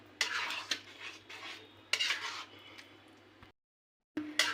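Dry fruits being stirred into a thick vermicelli custard in a pot, with a few scraping spoon strokes against the metal over a low steady hum, then a brief silence and one more stir.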